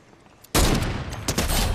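A burst of Fortnite gunfire erupts suddenly after a quiet moment, loud and close with several rapid shots bunched together.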